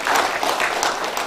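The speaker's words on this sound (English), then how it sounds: "Let us give the session chair a clap" A conference audience applauds steadily, many hands clapping in a dense, continuous patter with no voices on top.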